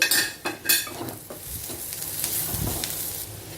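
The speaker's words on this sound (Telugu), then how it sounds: "ఇప్పుడు ఈ ఉల్లిపాయలతో పాటు ఈ కాకరకాయ ముక్కలను కూడా ఫ్రై చేసేసుకోవాలి" Bitter gourd pieces and onions sizzle in a pan, with loud stirring scrapes at the start that give way to a continuous close frying hiss.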